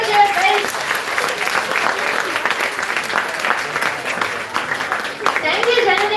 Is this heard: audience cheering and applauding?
yes